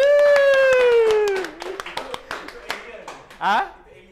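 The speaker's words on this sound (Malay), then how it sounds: "Tepuk tangan." After a held sung note, a small audience at a televised Malaysian singing competition claps in a scattered, uneven patter of distinct hand claps, with voices talking over it.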